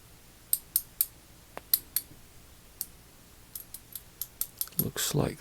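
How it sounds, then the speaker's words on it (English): A Kobalt 81697 3/8-inch drive ratchet clicks as it is worked during a teardown, giving a series of crisp, close metallic clicks in irregular bursts, quickening toward the end with some handling noise. "that's how it looks when it's switching and when it's ratcheting"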